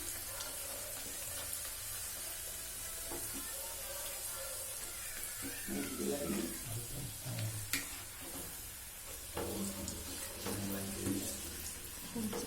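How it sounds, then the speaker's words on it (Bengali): Pea-stuffed kachuri puris frying in hot oil give a steady bubbling sizzle, with louder crackling bursts and occasional kitchen clatter, and faint voices in the background. "কচুরি ভাজা শুরু হয়ে গেছে।"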